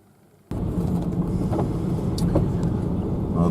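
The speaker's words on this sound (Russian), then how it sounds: "Вот это катер." A motorboat on a lake passes at close range, its engine droning steadily after an abrupt start, with wind buffeting and faint outdoor sounds around it.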